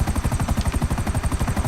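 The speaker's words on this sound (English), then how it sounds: "back to the airport for helicopter number 2" A helicopter in the video game GTA 5 chops with rapid, even rotor thumps over a whining engine, close and steady throughout.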